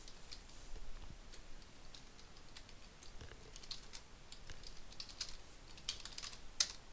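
Steady typing on a computer keyboard, faint and close, with quick irregular key clicks and a louder tap near the end, no voices.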